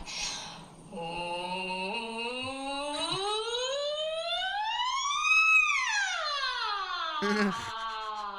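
A single voice imitates a siren, gliding smoothly upward from low to high pitch and then sweeping back down, sustained and continuous.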